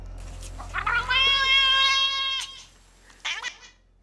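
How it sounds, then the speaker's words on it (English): A cat lets out one long, drawn-out wailing meow followed by a shorter second cry, clear and close against a quiet background. "That's definitely a cat."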